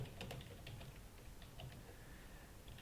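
Someone types on a computer keyboard while entering account details, giving quick irregular clicks at a faint level over a steady background hiss.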